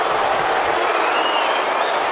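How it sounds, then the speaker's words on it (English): Steady, dense applause from a large arena crowd in the WWE 2K24 wrestling video game, a continuous loud wash of clapping with no gaps. "The crowd is in awe of Baszler's dominance, sensing that she's on the verge of a convincing victory"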